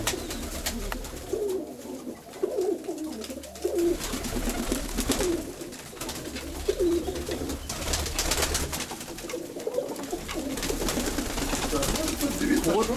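Pigeons coo in low, repeated throaty phrases over a busy, noisy background, with a voice speaking intermittently.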